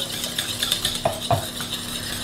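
A utensil stirs zucchini batter with cumin and milk in a bowl, giving soft scraping and a few light clinks against the side, close and quiet.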